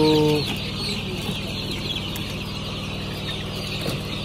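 Young chicks chirp in a group during debeaking on a poultry farm, with a brief clear peep at the start and then busy, overlapping cheeping against steady background noise.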